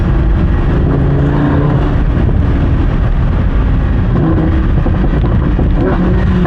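A Lamborghini engine revs loudly and continuously outdoors, a dense rumbling roar held steady for several seconds with wind buffeting the microphone.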